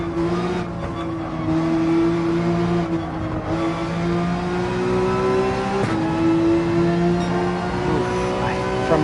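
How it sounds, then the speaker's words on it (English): A Porsche 911 engine in Gran Turismo 7 revs and pulls steadily, holding a continuous rising engine tone through acceleration out of a corner on the Dragon Trail circuit, loud and close throughout. "the 911 really powers out of turns"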